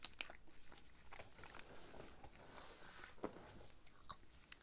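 A GoMacro Macrobar oatmeal chocolate chip bar with oats and chocolate chips is bitten and chewed up close, giving a crisp initial bite followed by soft, quiet, steady chewing crunches.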